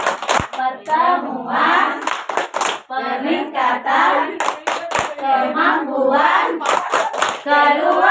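A group of women claps out the rhythmic P2K2 chant together during a family training session on stunting, sharp hand claps punctuating voices chanting in unison, close and loud throughout.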